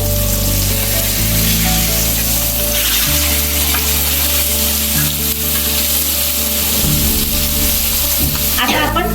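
Pomfret fish frying on a tava, a loud, dense, continuous sizzle close up, with a brief clatter near the end as the fish is handled, no voices.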